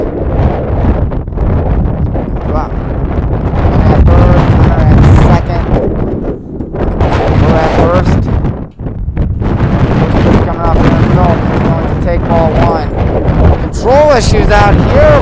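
Strong, gusting wind roars across a baseball field during a high school game, buffeting the microphone loudly and almost without pause, while a commentator talks over it.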